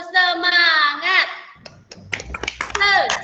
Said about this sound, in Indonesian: sekarang kita tepuk semangat dulu ya, Nak